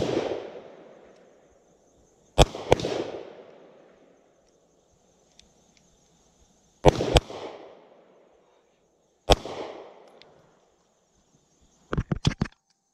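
Gunshots at an outdoor shooting range, fired as sharp, loud single and paired reports with echoing decay, then a quick burst of three or four closely spaced shots near the end, separated by quiet gaps.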